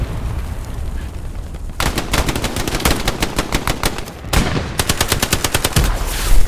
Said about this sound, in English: I think there's an MG up in the church.